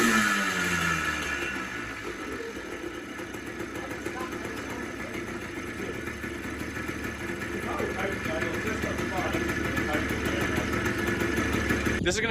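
A Yamaha Blaster ATV engine running, a steady close rumbling idle with a slight rise in revs partway through, heard under people talking.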